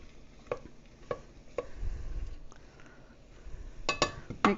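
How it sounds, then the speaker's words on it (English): A spoon stirs tomato paste into chopped vegetables in a soup pot, making soft scraping and light clinking strokes with a faint sizzle underneath. "we're just going to stir that tomato paste around in there a little bit, break it up, heat it through."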